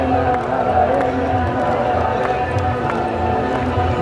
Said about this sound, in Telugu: మీకు చప్పట్ల యొక్క శబ్దం అయితే వినిపిస్తూ ఉంటుంది